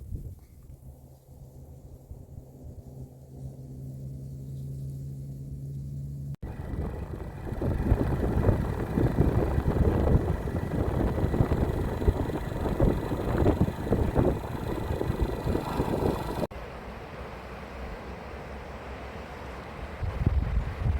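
A river in Bagav rushes with a steady, broadband roar of flowing water that swells louder through the middle stretch before easing slightly, with no voices over it.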